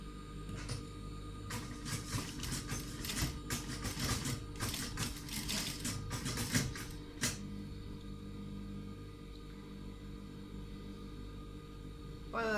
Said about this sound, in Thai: จับมาก็ เย็บเลยนะคะ เหมือนตรงเส้นเดิมเขาค่ะ